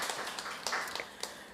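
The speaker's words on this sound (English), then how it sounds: "Let's give them also a round of applause." Scattered hand claps from a small group, uneven and fairly faint, a few sharper claps standing out.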